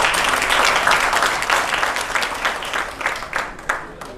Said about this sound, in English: So I think big claps for them because they worked very hard throughout the day.